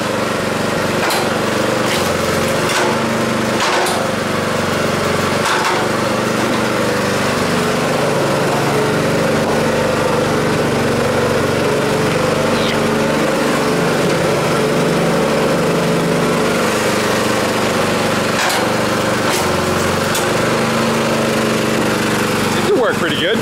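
Small engine of a mechanical log splitter with a flat tire running steadily, a continuous close buzzing drone with occasional knocks and clanks, while people talk over it.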